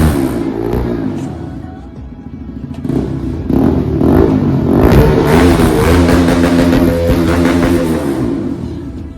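A Bajaj Pulsar NS 200 motorcycle fitted with a new aftermarket exhaust revs close by, the engine rising and falling through several throttle blips into a sustained loud roar, no talking.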